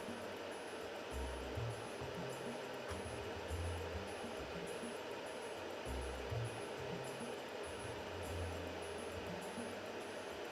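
A Tandy 1000TL/2 computer hums steadily as its cooling fan runs after power-on, a constant broadband whir with faint low thumps, fairly quiet and with no voices.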